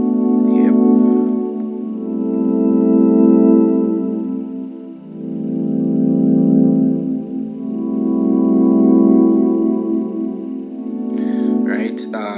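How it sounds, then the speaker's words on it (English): Bass melody from a music production plugin, a loud sustained synth bass with chorus and distortion that swells and dips in slow, long notes, with brief clicks at the start and end. "I actually basically started off with a bass melody"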